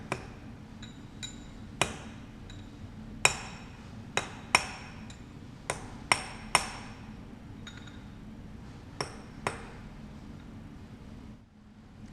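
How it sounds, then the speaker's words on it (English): A hammer taps a machined part down onto V-blocks and parallel bars: about a dozen sharp metallic taps at irregular intervals, close and ringing, with a low shop hum underneath and no talking. "We're going to tap it down with a hammer so our bars are nice and stable"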